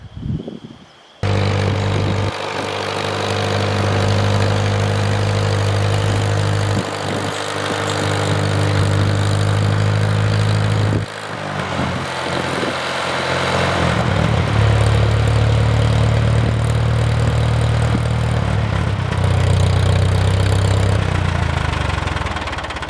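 A farm tractor engine runs steadily and loudly up close on a field being plowed and disced, starting abruptly after a brief pause, with a low droning hum and small dips in pitch as it idles and works.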